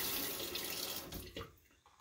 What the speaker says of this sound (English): I am going to add a little bit of water.